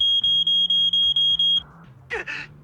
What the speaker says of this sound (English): That's a warning siren.